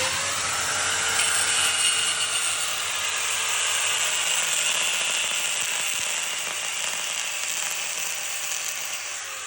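Continuous high-pitched metallic grinding as an angle grinder cuts magnesium metal, loud and steady, with a bright shrill edge and no pauses throughout.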